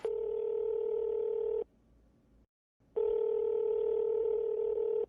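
A steady telephone dial tone sounds loudly, cuts off for over a second of near silence, then returns at full strength.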